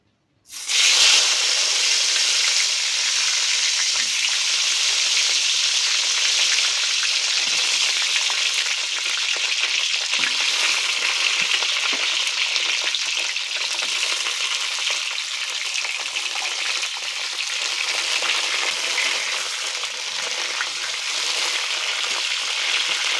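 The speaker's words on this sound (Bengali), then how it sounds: "তো এই হয়ে গেল পটল ভাজা" Pointed gourd (potol) fries in a generous amount of oil, giving a loud, steady sizzle and hiss that starts abruptly and runs on without pause, with occasional faint stirring taps and no talk.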